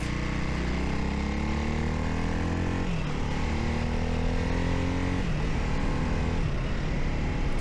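A Ducati single-cylinder supermotard motorcycle engine, derived from road racing, runs loud and close in a continuous droning note, with its pitch shifting as the revs change twice.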